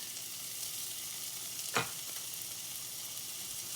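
Garlic in a hot pan of jarred pasta sauce, a quiet constant sizzle with one brief scrape of a spoon stirring midway, fairly soft overall.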